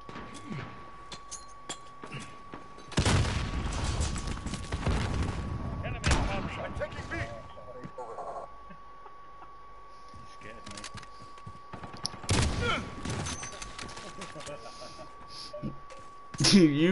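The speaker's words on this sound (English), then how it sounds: "How is he shooting that quick with a pistol?" Rapid pistol fire in a first-person shooter video game, with bursts of quick shots and clinks, loud in places and fainter elsewhere, while players talk over it.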